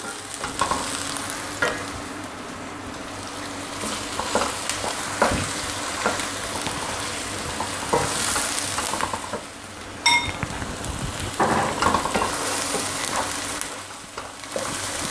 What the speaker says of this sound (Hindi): इन दोनों चीज़ों को डालने के बाद हल्का सा हम इसको फ्राई करेंगे